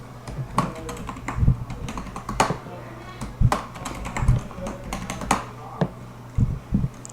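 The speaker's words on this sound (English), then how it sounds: "type in the password you want" Someone types a password on a computer keyboard while setting up an Ubuntu Linux account, producing irregular close clicks and key taps, some louder thumps like the space or enter key, with no talking.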